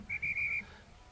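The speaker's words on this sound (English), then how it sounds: "Whoop, hang on. We got a whistle." A referee's whistle at an Australian rules football match sounds in four short bright blasts in quick succession, then fades into quiet crowd ambience.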